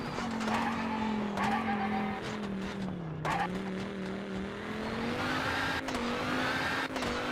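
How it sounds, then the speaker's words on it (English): A historic rally car in the video game WRC Generations races on a Rally Portugal stage, its engine droning steadily and rising and dipping in pitch, with brief tyre skids and a co-driver calling notes faintly underneath. "One of my favourite rally cars of all time, and it sounds absolutely awesome."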